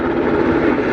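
A helicopter flying over coastal Sitka, Alaska, producing a steady, loud, broadband engine and rotor roar that holds constant throughout the short moment.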